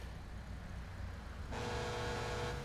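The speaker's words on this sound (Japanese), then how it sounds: "めちゃめちゃクラクション鳴らされてるぞ。" Car horns honk in traffic in Grand Theft Auto V, a steady tonal blare starting midway over a constant engine and road rumble.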